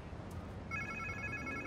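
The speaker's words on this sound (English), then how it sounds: "Sounds like somebody's phone." A telephone rings in the Spider-Man 2 video game on PS5, a steady electronic trill starting midway and continuing quietly under the game's ambient background.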